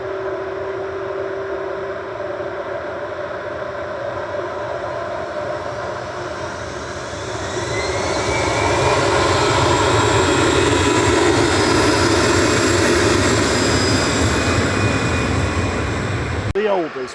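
A 27-year-old Airbus A319 at Manchester Airport, its jet engines a loud, sustained roar that swells and grows rougher partway through, with a voice talking over it.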